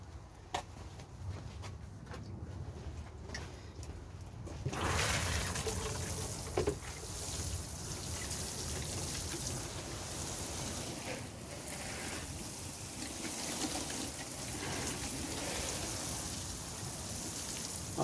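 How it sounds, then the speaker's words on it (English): Lettuce seedlings on an allotment plot get watered: a soft, quiet patter and trickle starts suddenly after a few seconds of near silence and then runs on steadily. "Now I'm just going to give that a quick water."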